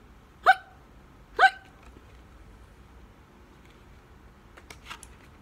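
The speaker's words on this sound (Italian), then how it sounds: "Ah, uffa, ancora il singhiozzo." Two sharp voiced hiccups a second apart, close and distinct, followed by faint small rustles in a quiet room.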